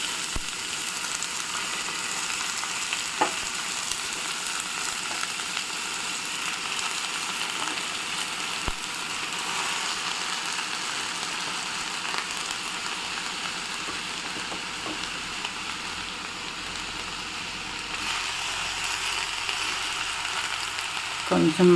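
Chopped onions and amaranth leaves frying in a pan give a steady, close sizzle that runs unbroken throughout, with a few faint clicks and no voices.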